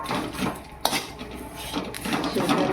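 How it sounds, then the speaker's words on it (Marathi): Vermicelli roasting in ghee in a kitchen pan for kheer, heard as steady light scraping and clinking of a utensil against the pan, with a sharp clink near the middle and no talk. "शेव भाजी भाजलेली शेव आहे तर आपल्याला थोडीशी तुपात भाजून घ्यायची आहे"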